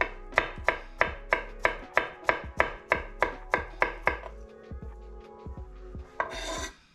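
A knife thinly slicing garlic on a cutting board, about fifteen crisp, evenly spaced chops close up, slowing and softening near the end before a brief rasping scrape.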